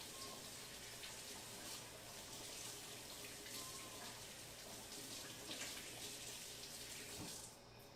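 Tap water runs steadily into a sink as hands are rinsed, a continuous hissing splash at moderate level that cuts off near the end, with no talking.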